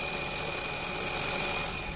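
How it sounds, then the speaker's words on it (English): Seat Ibiza 1.2 TSI petrol engine idling steadily, a constant low hum with a thin high whine throughout, heard close without any talk. "As you can see, the engine is running."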